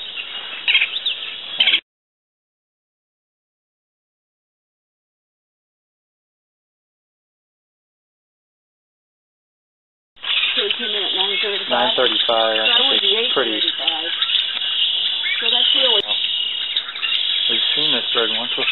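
Chirping calls from a female Altamira oriole in the Rio Grande Valley of Texas come in short bursts, broken by a long silent gap, with people talking nearby.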